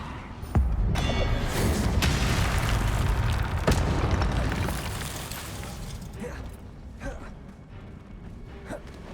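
Confringo spell explosions in Hogwarts Legacy, played on PlayStation 4: repeated loud booming blasts with sharp onsets, and a dense rumbling wash of combat noise that tapers off toward the end.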